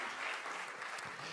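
An audience at a startup pitch competition semi-final claps steadily and fairly loudly throughout, a dense wash of many hands with no pauses and no voices.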